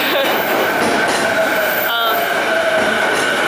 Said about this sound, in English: Here's coming a train.